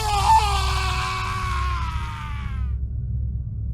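A man's drawn-out scream from a horror audio drama, loud and close, trailing off into a low rumbling background after a few seconds.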